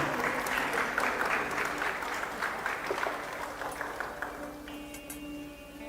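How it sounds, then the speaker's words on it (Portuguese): A church congregation gives a round of applause, dense clapping that fades gradually as a sustained keyboard tone rises underneath near the end. "Vamos dar uma salva de palmas para eles, que eles merecem."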